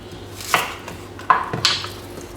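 Green onions being chopped on a board with a knife, a few sharp separate cuts spaced unevenly, close and clear with no talking.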